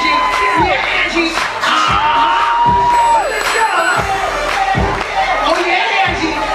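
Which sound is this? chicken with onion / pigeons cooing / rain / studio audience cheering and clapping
studio audience cheering and clapping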